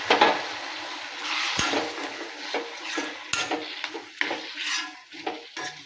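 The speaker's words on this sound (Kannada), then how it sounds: "ಈಗ ಚಂದಾಗಿ ಮಿಕ್ಸ್ ಮಾಡಿ ತಿರುವಾಡ್ತೇನೆ." Bitter gourd curry mixed in a pan with tamarind water, close metal-spoon scrapes and clinks against the pan in an irregular rhythm over a soft wet simmer, no one speaking.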